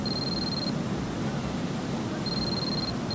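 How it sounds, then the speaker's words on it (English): The cell phone ringtone from the international versions of Metal Gear Solid 2: a thin, high, steady electronic tone sounding in long repeated pulses with gaps between them, over a constant soft hiss. "In all the international versions, the ringtone sounds like this"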